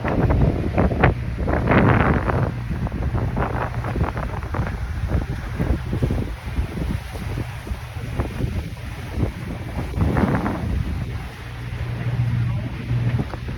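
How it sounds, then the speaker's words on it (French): Steady wind rush over a sailboat making good way in fine weather, with water sloshing and a low hull rumble; a voice talks intermittently throughout. "sinon la météo est belle et le bateau avance bien, je vous montre"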